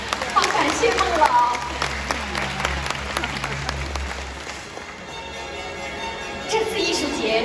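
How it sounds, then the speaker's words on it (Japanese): Scattered applause from an audience at an arts festival ceremony, loud at first and gradually thinning out, with some background murmur and ambient room noise. "改めて孟先生に温かい拍手を送りたいと思います"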